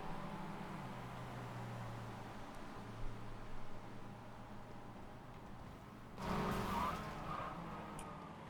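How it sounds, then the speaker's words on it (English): Racing video game car noise in a production car challenge: a steady engine drone, then a burst of broadband crash and tire-skid noise in the last two seconds, alone without talk. "Oh no, car crash in front."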